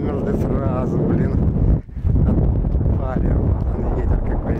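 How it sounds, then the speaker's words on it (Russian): Heavy, freezing wind buffets the microphone in a constant low roar in an open field, with a person talking over it and a brief lull partway through. "Ветер какой, видите, болтает."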